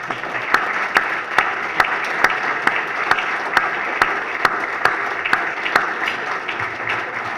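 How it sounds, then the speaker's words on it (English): An audience at the New England Newspaper Hall of Fame 2017 ceremony applauds the honorees, a dense, sustained round of clapping from a crowd with a few sharper distinct claps standing out in a regular pattern. "Why don't we give a round of applause for all of the honorees again tonight?"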